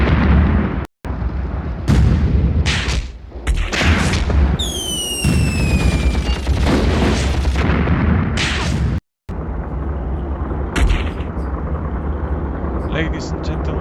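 Loud gunfire and booming explosions from a tank battle in Graviteam Tank Warfare with Valentine and German tanks, several sharp blasts and a whistling shell sounding close, while someone talks over the combat.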